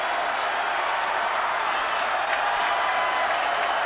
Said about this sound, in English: And the crowd coming to its feet in Chapel Hill.